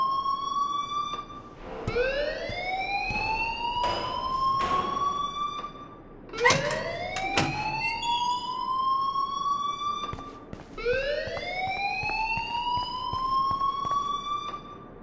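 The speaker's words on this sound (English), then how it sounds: "please turn off that alarm since that's your job" Loud rising siren-style alarm in the Life Is Strange video game, sweeping upward in three long whoops with sharp clanks and bangs between them.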